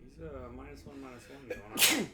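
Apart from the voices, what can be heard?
sneeze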